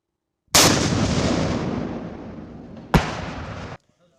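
An M3E1 MAAWS recoilless rifle fires one huge, loud blast that rings and decays for about three seconds, then a second sharp crack or echo hits before the sound cuts off.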